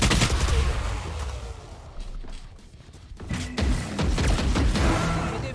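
Rapid bursts of gunfire from the Valorant video game crackle in quick volleys, fading briefly mid-way before returning in dense clusters of shots and impacts, no voices over them.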